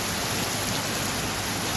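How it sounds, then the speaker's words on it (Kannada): Heavy rain falls in Belagavi in a dense, unbroken roar of close steady downpour, loud and even through its short span with no talk. "ಬೆಳಗಾವಿಯಲ್ಲಿ ಈ ಥರ ಮಳೆ ಆಗಿದೆ ನಿನ್ನೆ"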